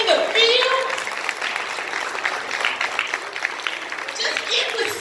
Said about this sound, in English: Can we just applaud them for their work in the field?